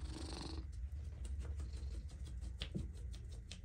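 A shelter cat purrs softly and steadily while sitting on a lap, a low continuous rumble close to the microphone, with a brief burst of rustling at the start.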